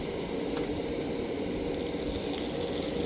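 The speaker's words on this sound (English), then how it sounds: "there's the water's clean now coming out" Water runs out of a hose while trapped air is flushed, a steady broadband rush with soft gurgling and squishing, close and unbroken; no talk.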